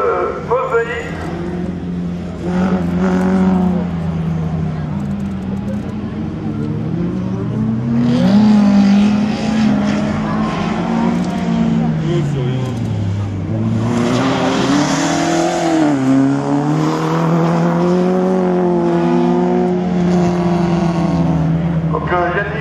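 Race car on a slalom course, engine revving hard with repeated swells and dips in pitch as it accelerates and brakes, loud and sustained, with a commentator talking throughout.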